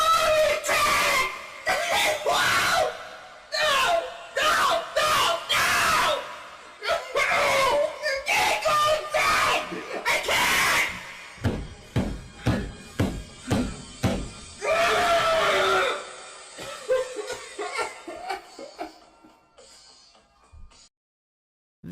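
A recorded anguished scream tied to an online Pokémon love story comes loud and ragged in repeated bursts, broken by gasps, whimpers and laugh-like sobs before trailing off into quiet.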